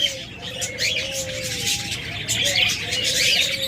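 Pet birds such as lovebirds, budgerigars and cockatiels chirp and tweet in a lively mix of short calls and whistles, close by, over a constant busy background.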